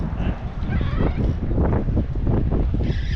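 Wind buffeting a fishing boat out on the water during tautog fishing, a continuous heavy rumbling roar of gusts striking the microphone with no clear voice.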